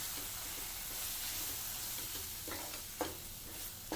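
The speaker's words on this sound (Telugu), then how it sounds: "ఇవన్నీ కూడా బాగా కలుపుకొని పచ్చివాసన పోయేంత వరకు కూడా ఫ్రై చేసుకోవాలి" Chili powder, turmeric and chaat masala fry in a pan for a pani puri pea filling, giving a steady soft sizzle with a few scraping stirs near the end, close and without talk.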